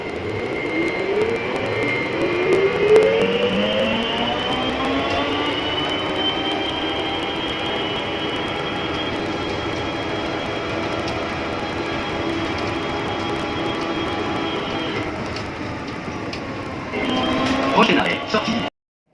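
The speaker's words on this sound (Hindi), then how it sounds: "वहाँ उन्होंने खुद एक ट्रेन बनाई हुई है, तो ट्रेन आपको लेके जाएगी" Interior of the Paris airport shuttle train running between terminals, a steady loud hum and whine that rises in pitch as it speeds up, then holds level before shifting near the end.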